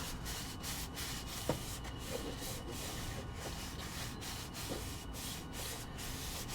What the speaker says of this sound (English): just give it a good rub